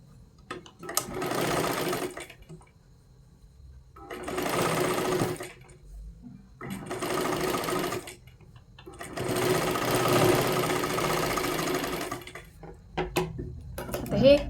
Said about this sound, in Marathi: इथे एक शिलाई मारून घ्यायची आहे आपल्याला